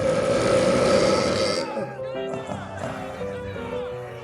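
A voice imitates a huge, drawn-out beer burp from a monster while narrating a tabletop role-playing game, a croaky guttural belch that breaks into a few wobbling grunts, close to the mic.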